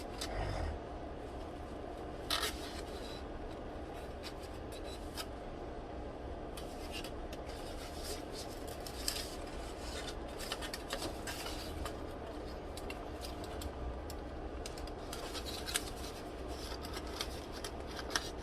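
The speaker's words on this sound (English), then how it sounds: "Just peeling the skin off." Skin being peeled by hand off hot roasted sweet potatoes, a continuous soft rubbing and tearing texture with occasional small clicks and taps, close and quiet throughout, no talking.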